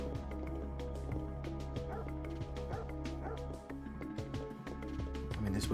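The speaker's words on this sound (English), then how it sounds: "Dogs! Hello, dogs. Hope you don't turn evil." Dogs barking and yipping in the Parasite Eve game, repeated short barks and whimpers over a steady low musical drone, moderately close.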